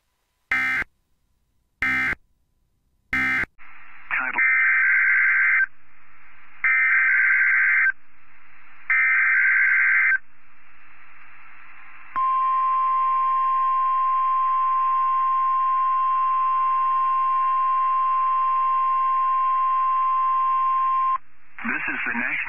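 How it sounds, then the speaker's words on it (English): Emergency Alert System test tones from a National Weather Service broadcast in Mobile, Alabama: three sharp data bursts, three loud repeated beeps, then a long steady NOAA Weather Radio warning alarm tone, all loud and clear on the radio. "The preceding signal was a test of the NOAA Weather Radio Warning Alarm Device"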